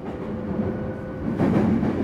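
A JR Yokohama Line E233 series electric train runs between Higashi-Kanagawa and Yokohama, a loud steady interior rumble of wheels and motors that swells slightly partway through, with no talking.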